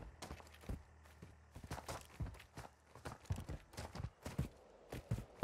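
Soft footsteps in the Call of Duty Warzone video game patter unevenly across the clip, faint and close, with a low hum beneath them.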